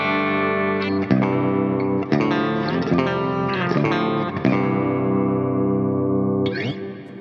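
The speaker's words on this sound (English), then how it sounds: "if I show you what it sounds like just on the bridge pickup" Electric guitar on its bridge pickup through a Line 6 Helix metal preset with Fishman pickups, heavily distorted chugging riffs with chorus and effects, loud and continuous with sharp palm-muted stops and a final slide.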